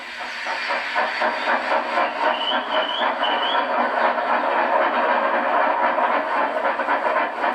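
A train rolls steadily along the rails with a rhythmic clickety-clack and hissing, and a brief high wheel squeal rises partway through.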